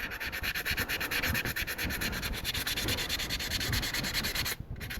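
Model's primer being sanded by hand, a steady rapid back-and-forth rasping rub close up that continues evenly with a brief pause near the end.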